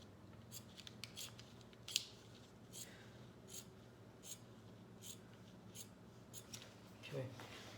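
Scissors snipping knit fabric along pinned T-shirt pattern pieces, a series of short crisp cuts spaced irregularly, close and fairly quiet, with soft handling noise between.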